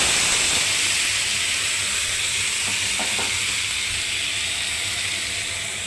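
Chopped ridge gourd, potato and green chilli fry in a hot pan with a loud, constant, close sizzling hiss and a few soft stirring sounds, with no talking.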